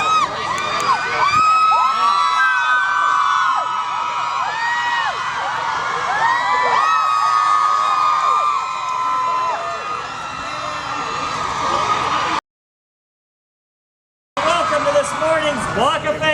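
A crowd at a Hollywood Walk of Fame star ceremony for the Backstreet Boys cheering, whooping and shrieking loudly in sustained waves, with a brief silent gap before the cheering resumes.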